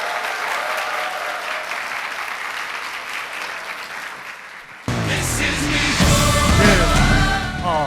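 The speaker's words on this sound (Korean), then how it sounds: "다시 한번 큰 박수 부탁드리겠습니다." An audience at a business vision seminar applauds after a guest speech, sustained even clapping for several seconds before loud music abruptly starts up over the tail of the applause.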